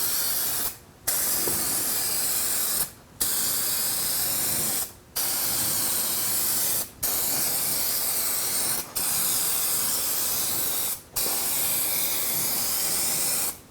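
A spray can lays clear coat onto restored car headlights in seven even, loud hissing bursts, each about two seconds long with brief gaps between passes.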